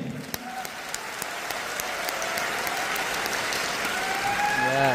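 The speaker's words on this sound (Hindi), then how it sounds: "और एक बार ताली अपने लिए बजा लीजिए।" Sustained audience applause from a seated crowd at a talk, a dense wash of many hands clapping that grows slightly louder and fuller over the whole stretch, with a few sharper individual claps standing out near the start.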